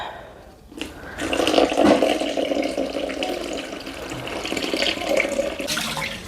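Warm water being poured into sourdough bread dough, a steady close splashing flow that rises and continues for several seconds, with no voices.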